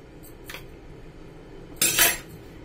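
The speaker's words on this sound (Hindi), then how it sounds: "इसमें थोड़ा थोड़ा इस तरह से दूध शामिल करेंगे चम्मच से" A spoon scrapes and clinks against a bowl while milk is stirred into a cashew sweet mixture, with one faint tap followed by a louder, brief scrape a moment later.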